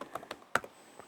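Command typed on a computer keyboard at a Linux terminal: a quick burst of about six close, crisp key clicks in just over a second, fairly quiet and with no talk.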